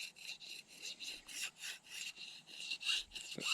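Rhythmic scraping as a blade strips the waxy cuticle from a bush plant stem being made into a survival fishing rod in Africa, a series of close, rough rasping strokes repeating steadily.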